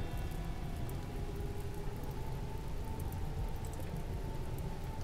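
Rain pours down in the video game RimWorld, a dense, even hiss with a low rumbling undertone, constant and fairly loud with no speech over it.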